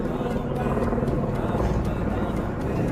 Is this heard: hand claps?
no